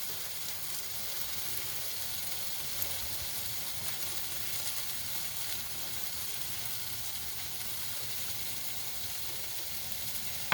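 Sweet apples frying in a pan over medium-high heat give a steady, even sizzle with a soft crackle throughout, close and moderately quiet, with no one talking.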